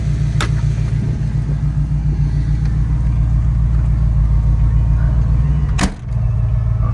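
A restored 1938 Ford pickup truck's engine idles close by with a steady, even low rumble throughout, broken only by a couple of brief sharp clicks.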